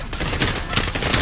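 Small-arms gunfire in Call of Duty: Modern Warfare, a loud rapid string of close shots in quick irregular bursts, with no voices.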